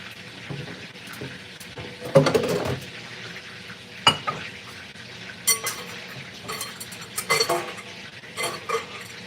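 Cooked spaghetti drained in a home kitchen, with pots and pans clattering in sharp bursts over a faint hiss of water and steam, nearby and fairly quiet, with no talking.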